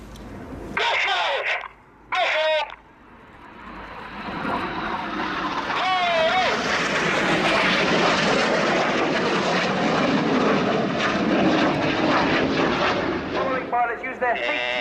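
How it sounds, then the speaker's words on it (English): Red Arrows BAE Hawk T1 jets roar through a flying display at an air show, a loud broad jet rush that swells and holds for most of the stretch, with voices speaking briefly at the start and end. "swinging the jets out like a pendulum in line of stern"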